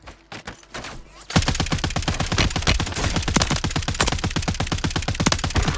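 Rapid automatic Striker 9 SMG fire in Call of Duty Warzone, a sustained loud stream of evenly spaced shots after a few brief opening bursts, close and dominant with little speech.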